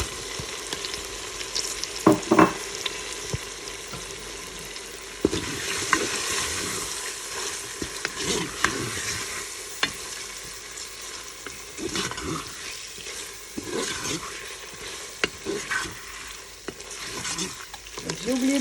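Onion frying in a Cookeo multicooker for a beef and vegetable tajine, a close sizzle broken by spoon scrapes and stirring knocks, with bursts of louder crackle as the pieces hit the hot pot.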